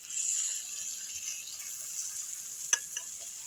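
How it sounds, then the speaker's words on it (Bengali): Mashed potato frying with spices in a pan in a Kolkata-style Bengali egg chop preparation, a soft steady sizzle with faint stirring scrapes and a couple of sharp spatula clicks near the end, close and alone. "দিয়ে আমি ভালো করে মশলার সঙ্গে আলুটাকে কষিয়ে নেবো।"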